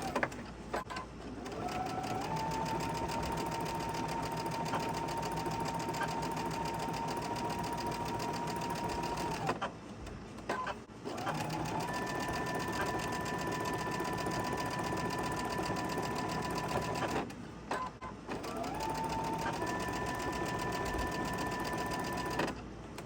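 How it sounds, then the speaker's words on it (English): A sewing machine stitches pinned fabric pieces for a quilt block, running in three long close steady bursts with brief pauses between them, and no one speaks. "I'm going to go ahead and pin the other one to it and then sew it."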